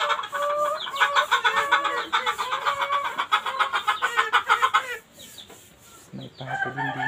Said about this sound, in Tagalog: May manok din dito sa ilalim.